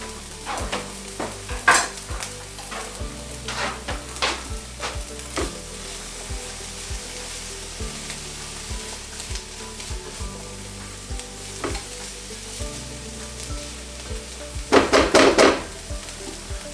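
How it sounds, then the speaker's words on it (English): Finely chopped garlic sizzling in a frying pan, a continuous close crackle broken by repeated clicks and scrapes of a utensil stirring against the pan, with a burst of louder stirring near the end and no talking. "Chopped up the garlic fairly finely, so we'll put that in now."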